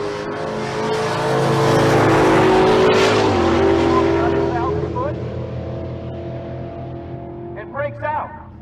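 A 1988 Fox-body Ford Mustang launches at a drag strip, a loud sustained engine roar rising and then fading as it pulls away, with an announcer talking over it throughout.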